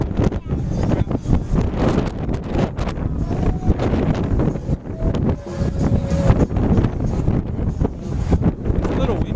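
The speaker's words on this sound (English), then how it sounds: "It's a little windy up here." Strong wind buffets the microphone on the top deck of a boat near St. Martin, a constant low roaring rumble with gusty surges, while voices murmur faintly underneath.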